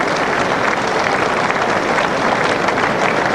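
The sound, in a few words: racecourse crowd applause at Sandown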